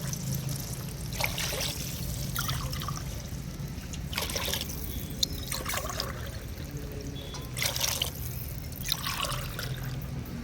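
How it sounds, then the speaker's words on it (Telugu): Water is poured over rice in a cooking pot, six glasses for three of rice. About six separate close pours splash and trickle in short bursts with quiet gaps between them. "3 గ్లాసులు రైస్కి 6 గ్లాసులు వాటర్ వేసుకుంటున్నాను"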